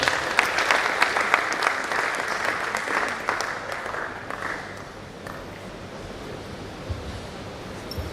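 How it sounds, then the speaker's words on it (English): Audience at a College of Medicine scientific conference plenary session gives a round of applause, dense and loud at first, then thinning and fading over several seconds. "Please let's give her a round of applause."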